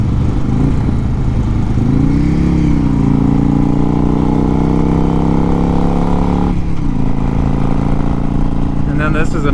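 A motorcycle engine drones loud and close while riding, its pitch climbing and shifting after a downshift to third gear, then dropping briefly before holding steady under light wind noise.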